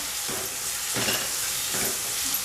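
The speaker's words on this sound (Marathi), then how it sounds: "हे दोन टमॅटर बारीक केलेले आहेत ते घालून घेऊया आणि छान असं परतून देऊया" Chopped tomatoes sizzle in hot oil with softened onion as they are stirred in a pan for a potato and pea curry, giving a steady close hiss with a few louder stirring bursts and no voices.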